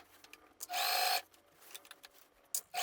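A sewing machine stitches tulle onto a party dress in one short whirring burst of under half a second, bracketed by quiet handling clicks and a brief restart at the end, close and moderately loud.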